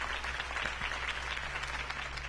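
Applause from a crowd after Harvey Dent's campaign speech in Batman: The Telltale Series, a steady wash of clapping with no talk over it.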